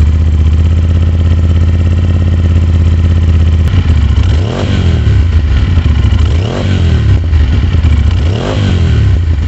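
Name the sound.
Aprilia RS 457 motorcycle, Akrapovic exhaust with dB killer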